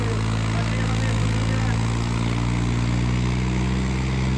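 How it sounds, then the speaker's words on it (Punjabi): A New Holland tractor engine runs with a constant heavy low drone and steady hum, loud and close, with no talking over it. "ਕੁੱਟ ਕੁੱਟ ਗੇਰ ਪਾਉਂਦਾ ਟਰੈਕਟਰ ਦੇਖੋ ਮਿੱਤਰੋ"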